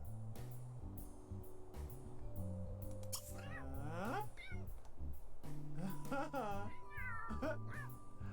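A cat meowing in The Sims 3 video game, several drawn-out, rising and falling meows heard over continuous game music.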